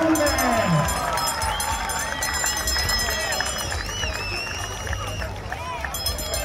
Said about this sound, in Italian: facciamogli un applauso a queste fanciulle!